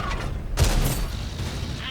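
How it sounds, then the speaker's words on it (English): A missile deflecting off an armored tank in a tank battle game: a sharp metallic impact burst, loud and close, with a ringing mechanical clatter trailing off against steady battle noise. "Oh, deflected that missile."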